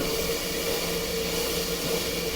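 Onions sizzling in a frying pan with leftover pork chop juices, a steady, loud, even hiss that holds without pause from start to end.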